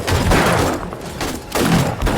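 Automated turrets in the zombie survival game 7 Days to Die fire sustained bursts at a zombie horde, a loud dense volley that dips briefly midway and then resumes.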